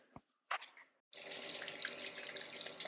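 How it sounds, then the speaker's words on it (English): Dirty cleaning water drains from fittings into a sink, a steady broad gush of running water that starts after a second of small clinks and drips and carries on continuously and fairly close. "I'm going to drain this out and let it empty it out into the sink"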